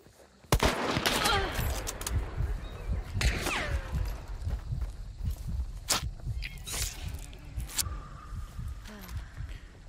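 Several sharp gunshots in the video game Hunt Showdown, a loud crack near the start followed by scattered shots and footsteps-like thumps, with a brief voice over the action.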